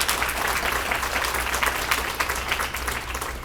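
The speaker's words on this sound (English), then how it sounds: "Give her a round of applause one more time." An audience at a Women's History Month celebration breaks into sustained applause, a thick, even wash of clapping close by that holds for a few seconds over a faint low hum, with no voices over it.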